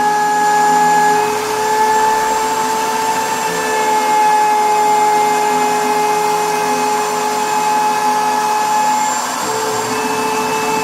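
A steady, loud machine whine with sustained high tones from a Denford CNC router cutting Baltic birch plywood, running continuously with only slight shifts in pitch.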